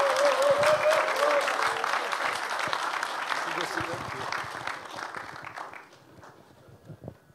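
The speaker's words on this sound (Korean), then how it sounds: "큰 박수로 모시겠습니다" Warm applause from a congregation at a church dedication service welcomes a speaker, loud at first and slowly thinning out, with some voices underneath.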